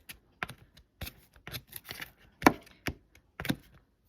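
Two garlic cloves chopped with a knife on a cutting board, a run of irregular sharp knocks and taps, close and clear with no talking.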